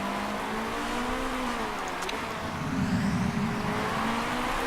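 Race car engines from the Motorsport Manager video game drone continuously, with overlapping engine tones shifting pitch as the cars go by, loud and steady with no pauses.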